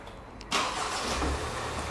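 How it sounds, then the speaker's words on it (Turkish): A Land Rover Freelander 2 engine cranks and fires up at close range, a sudden burst of starter and combustion noise that settles straight into a steady idle with no talking. "Çalıştırın arabayı."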